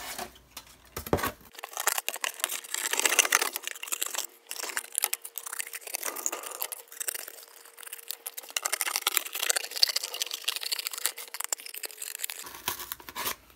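Scissors snip and crunch steadily through cardboard while a therian mask is cut out, a continuous close scraping and crinkling texture with a faint hum underneath.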